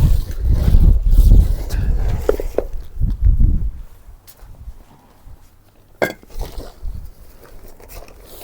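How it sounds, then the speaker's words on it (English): Gusty wind buffets the microphone with low rumbling blasts that ease off, leaving softer rustling and an occasional sharp knock. "Oh, it's quite windy."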